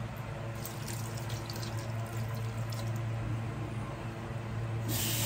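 Tap water runs steadily into a small amount for cooking, a continuous close pour lasting several seconds, from a Filipino kitchen where peppercorns and olive oil are also being used for pangat na isda.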